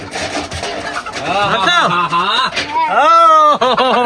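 Chickens cluck and squawk up close, with a caged native rooster's rising calls standing out, over a background of voices.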